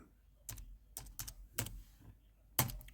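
Username and password being typed on a computer keyboard, a handful of sharp, separate key clicks in an irregular rhythm, close and fairly quiet, with no voices.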